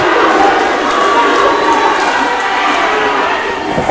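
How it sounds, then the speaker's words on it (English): A wrestling crowd at a Last Stand Rumble event stands and cheers in a loud, dense, continuous roar, with a commentator talking over it. "And the crowd is on their feet."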